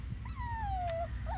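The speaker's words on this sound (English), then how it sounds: "They're gonna sit here and bark at me because I'm standing right in front of them." A Schnoodle puppy out in the grass gives one drawn-out, sliding whimper, and a short yip follows at the end, close and fairly clear over low background rumble.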